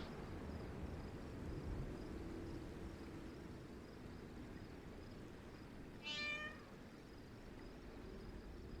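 A pet squirrel kitty in the FFXIV video game gives a single short meow partway through, rising briefly above a steady hiss of background noise.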